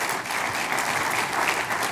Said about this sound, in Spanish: Si puede darle un aplauso al Señor